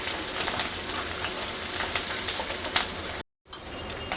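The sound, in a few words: onions and curry leaves frying in a pan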